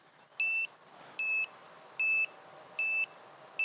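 Buzzer on an iFlight Nazgul Evoque F6D V2 drone sounding five loud, high, evenly spaced beeps, each about a quarter second long, with no voices.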